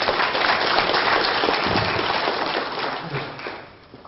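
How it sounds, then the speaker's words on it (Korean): A lecture audience in a hall claps steadily as one dense wash of applause that holds at full strength, then thins toward the end. "수고하신 최경은 교수장님에게 다시 한번 큰 박수"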